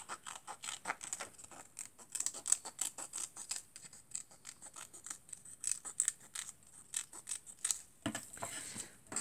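Scissors snip through paper while a Valentine's Day easel card is being made, giving rapid, close, crisp cuts in irregular clusters that keep going throughout with brief pauses.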